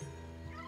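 Polter Kitty, a ghost cat in the video game Luigi's Mansion 3, gives one brief, sustained meow over a constant musical drone.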